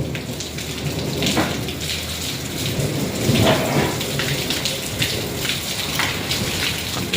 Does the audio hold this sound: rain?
yes